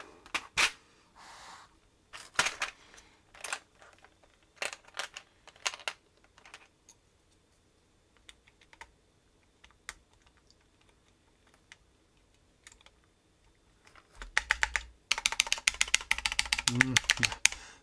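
Keys clack on a mechanical keyboard fitted with GMK Cherry-profile keycaps, in irregular bursts of sharp, close strokes with pauses between, ending in a fast, louder run of typing.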